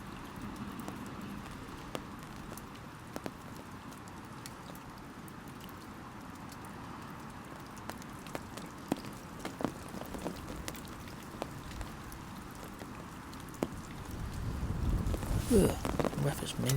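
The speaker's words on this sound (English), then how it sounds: "It's just been a bit drizzly all day, but then winds have started later on now." Light drizzle patters with scattered drops on a surface beside winter fishing pools, steady and soft, while wind builds into a louder rushing buffet near the end.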